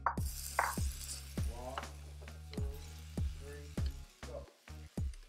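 String beans simmer in olive oil with roasted garlic and seasoned grape tomatoes, a quiet sizzle broken by a regular run of sharp ticks and clinks close by.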